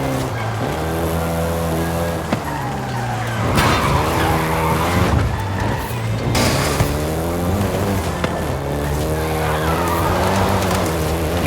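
Volkswagen Golf GTI engine revving hard in Forza Horizon 5, rising and falling tones through gear changes, with tire squeal and skidding under a steady drone of speed.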